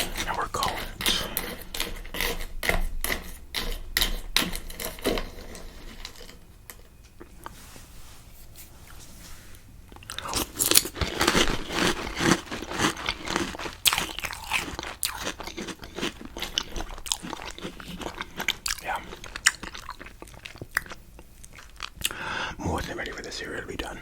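Close, crunchy chewing of chocolate breakfast cereal in milk, with a dense run of wet bites and crunches and occasional spoon scrapes. Soft whispering runs underneath.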